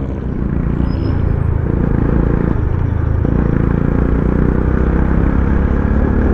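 Road traffic on the way to Star Tollway near Lipa, Batangas, a dense continuous rumble of engines and tyres heard steadily from inside or near a moving vehicle, with no clear individual passes.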